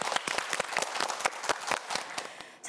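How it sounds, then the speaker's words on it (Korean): Studio audience applause on a Korean TV quiz show, a steady wash of many hands clapping at moderate loudness throughout, with no talking over it. "박수 한번 보내주고 시작할게요"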